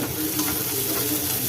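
Finely chopped large onions sizzle steadily in hot oil in a pan while a tomato rava khichdi is being cooked, giving a dense, even frying hiss close up with no talking.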